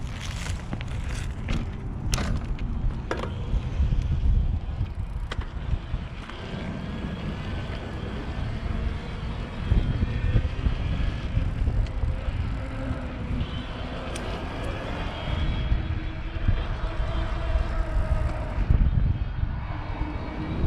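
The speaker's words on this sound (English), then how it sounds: "take it for a little ride so you can see that motor in action" An iZip E3 Edge electric bike with a suspension fork is ridden outdoors. A faint, rising motor whine sits under loud, continuous wind rush and road rumble, and there is no talking.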